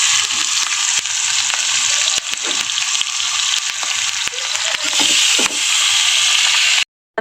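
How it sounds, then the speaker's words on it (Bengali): Fish heads sizzle steadily in hot oil in a pan, a loud continuous crackling frying hiss with occasional sharper clicks and spatters, no voices, ending in an abrupt cut to silence. "চলো মাথাগুলো ভেজে নিই। এখানে প্যানে বসিয়ে তেল দিয়ে দিয়েছি।"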